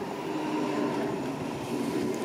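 An S-Bahn train arriving at Neu-Isenburg station, heard as a steady, moderately quiet rolling rumble with faint wheel and rail noise throughout.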